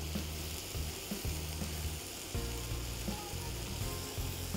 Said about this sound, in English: Add the garlic to the butter.